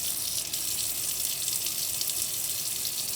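Tap water runs steadily into a kitchen sink, splashing over a coin covered with aluminum foil, a constant hissing rush with no talk.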